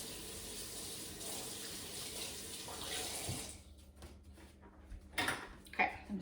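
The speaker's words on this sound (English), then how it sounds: "Gonna give this a quick wash." Kitchen tap running while a spoon is washed, a steady close rush of water that stops partway, followed by a few sharp clinks and handling knocks.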